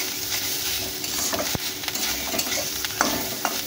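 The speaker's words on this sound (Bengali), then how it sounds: "একটুখানি ভেজে নেব হালকা করে নারকেলটা, যাতে একটু নারকেলের ভাজা ফ্লেমটা হয়" Grated coconut fries lightly in a pan while a spatula stirs it, giving a steady soft sizzle broken by several sharp scraping clicks against the metal, close and without any talking.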